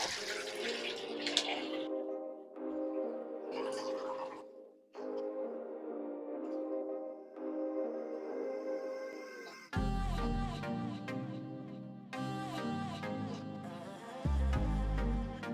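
Hot water runs hard from a tap into a sink with a little dish soap to clean an air exchanger core, a steady close rushing that shifts in pitch as the stream and filling level change.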